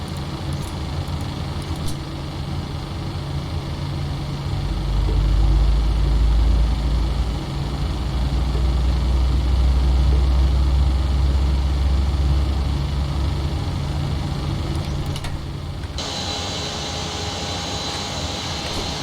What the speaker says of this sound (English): And starting engine 1.